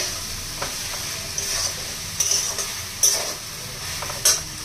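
Garlic paste fries in a pan, a steady sizzle broken by intermittent metallic scrapes and clinks as a spoon stirs it, close and loud with nobody talking.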